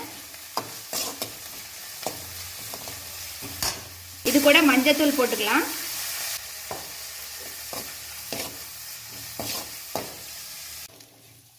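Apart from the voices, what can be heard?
sautéing drumstick flowers in oil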